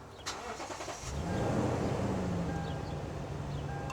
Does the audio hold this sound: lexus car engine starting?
yes